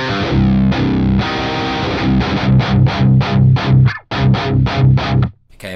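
Heavily distorted electric guitar with a tight metal tone, dialed up with extra gain and brightness, plays chugging palm-muted riffs with sustained chords, loud and alone.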